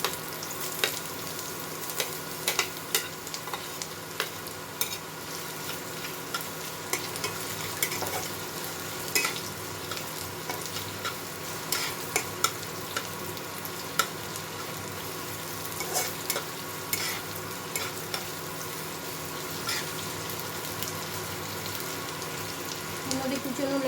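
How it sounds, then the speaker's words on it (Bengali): Chopped onion fries in hot oil, a steady, fairly quiet sizzle punctuated by the scrape and clink of stirring throughout. "এর মধ্যে আমি কুচনে পেঁয়াজটা দিয়ে দেবো।"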